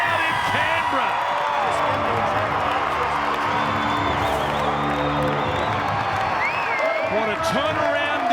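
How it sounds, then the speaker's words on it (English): A big rugby league crowd in Canberra cheers and roars loudly for a try, with whoops and applause, while a commentator talks over the noise. "he celebrates. And so does this big crowd in Canberra."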